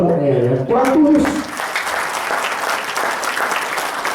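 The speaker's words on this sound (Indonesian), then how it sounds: "Tapi tepuk buat leader saya ya." Indoor audience applauding a leader at a motivational talk, a dense burst of clapping that swells after a short spoken call and then carries on steadily and loud.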